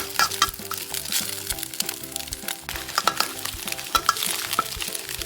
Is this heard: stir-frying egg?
yes